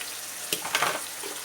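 Onions sautéing in a pan, a soft sizzle with a few short crackling bursts, fairly quiet and close.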